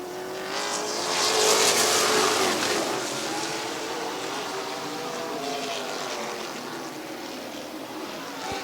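Race cars roaring around the oval at Midvale Speedway, a loud engine pass swelling near then settling into a steady, continuous drone of multiple cars with no talk.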